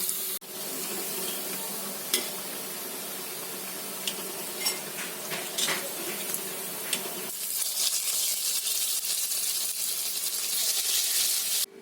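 Mixed dal vadas, small lentil pakoras, sizzling steadily in hot oil, a continuous crackling hiss with occasional sharper pops and a faint stir or two, growing brighter and more intense toward the end.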